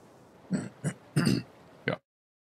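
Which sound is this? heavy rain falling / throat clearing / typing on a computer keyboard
throat clearing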